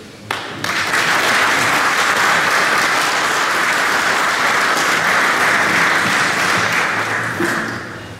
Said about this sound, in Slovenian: Prosim, da jih z aplavzom potrdim